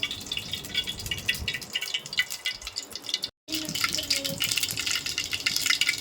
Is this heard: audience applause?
no